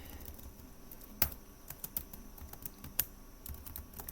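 Quiet typing on a computer keyboard, a few scattered key clicks with sharper taps standing out, in a calm room with no talking.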